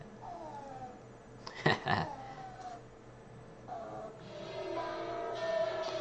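A cat in a shop gives a short vocal cry over steady background hum, followed by drawn-out moaning, meow-like calls toward the end, fairly close and moderately loud, with no clear talking.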